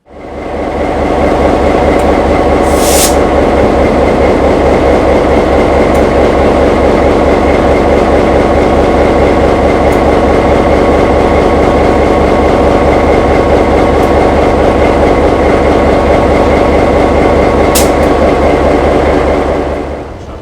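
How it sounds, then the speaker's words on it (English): A diesel locomotive's EMD 12-567C prime mover idles loudly and steadily, a deep rhythmic throb with constant mechanical chugging and occasional faint clicks. "She is powered by an EMD 12-567C prime mover, and here is 20 seconds of the engine idling."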